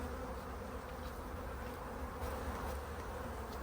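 Honeybees drone in a close, steady hum from inside a hive just after being moved into it, the buzzing even and unbroken throughout with no voices.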